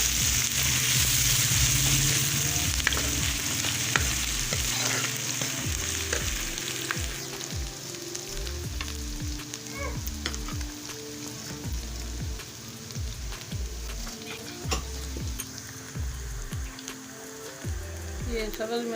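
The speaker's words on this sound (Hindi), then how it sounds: "प्याज हमारा फ्राई हो गया है। अब मैं ये लहसुन अदरक का पेस्ट डाल रही हूँ।" Garlic ginger paste hits a pan of fried onions, producing a loud, continuous sizzle and crackle with stirring scrapes throughout, while someone speaks faintly in the background.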